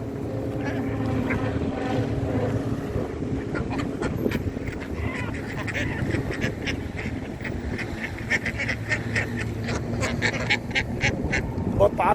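Ducks quack repeatedly amid the busy bustle of a bird market selling geese, ducks and chickens, with people talking and haggling over prices throughout.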